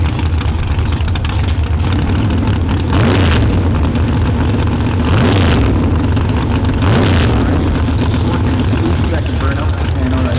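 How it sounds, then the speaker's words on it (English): A big block Chevrolet drag car with nitrous doing a burnout at a heads-up drag race in Toronto, loud sustained engine roar with several surging rev bursts, while an announcer talks over it. "Second burnout, and on there."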